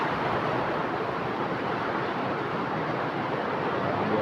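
Heavy rushing water after a downpour of rain, a loud, steady broadband roar that continues unbroken for the whole stretch with no voices.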